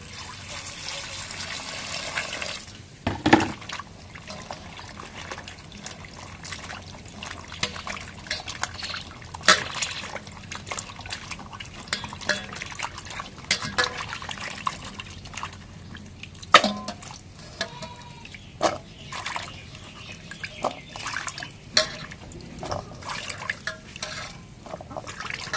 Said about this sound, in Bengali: এখন শাকটা ধুয়ে নেই।